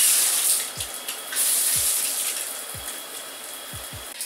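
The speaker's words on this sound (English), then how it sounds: "I'm gonna re-wet my hair" Water runs steadily from a tap while hair is re-wet, a close, full gushing stream with a few low thumps underneath and no talking.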